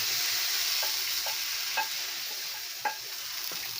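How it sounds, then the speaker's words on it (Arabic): Spinach fries in a pan while being stirred, a steady hissing sizzle marked by a few sharp spatula scrapes. "تديها تقليبه كده"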